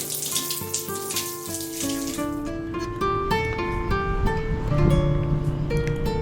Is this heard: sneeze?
no